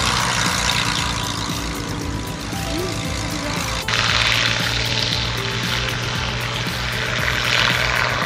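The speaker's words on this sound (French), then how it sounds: "Ils sont tous deux équipés d'un moteur Merlin Rolls-Royce de 1500 chevaux." A WWII propeller fighter plane's 1500-horsepower Rolls-Royce Merlin piston engine drones steadily and loudly at an air show, its low hum holding an even pitch with a rough, throaty edge.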